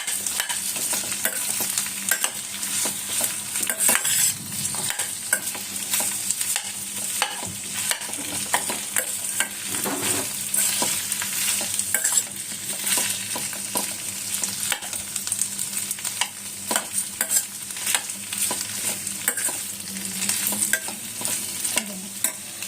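Food is stir-fried steadily in a hot pan for a fasting-day thali, with a continuous close sizzle and frequent scraping stirs throughout and no talking.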